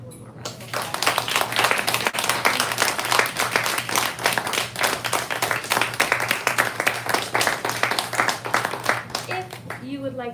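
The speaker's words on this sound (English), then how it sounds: "Everyone, let's give them one more round of applause." Audience at a live poetry reading gives the poets a round of applause, dense sustained clapping for about nine seconds with a steady low hum beneath, fading at the end as a voice begins.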